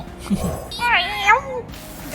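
A cat meows in the card game Legends of Runeterra: a short, rising and falling cry that stands out clearly over a soft voice at the start and a quiet background.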